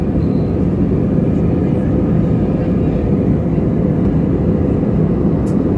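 Loud, steady roar of an airplane in flight, the constant engine and air drone of a cabin with no talking.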